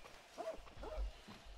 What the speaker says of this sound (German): Hund.